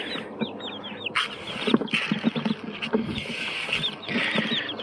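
Young chicks, including black ones, cheep shrilly and repeatedly inside a bucket being carried to a coop, with scratchy pattering and rustling close by and no speech.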